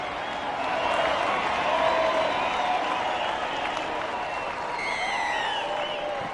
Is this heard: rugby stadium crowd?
yes